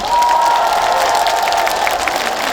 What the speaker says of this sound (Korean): 다시 잘했다 생각하시면 박수 한 번만 주시겠어요?